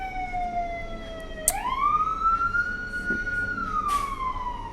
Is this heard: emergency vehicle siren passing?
yes